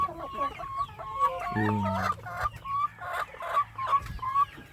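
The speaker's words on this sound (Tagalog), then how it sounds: "50 plus po yan na manok. Lahat po yan nangingitlog na." Hens on a small egg-laying flock's farm cluck repeatedly in a busy, close chorus, with short bursts overlapping and a lower rooster-like call briefly rising in the middle.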